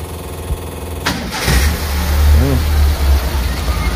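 A Suzuki Futura pickup's engine starts abruptly after a quiet moment, then runs with a loud, deep rumble that swells as it is revved, close by.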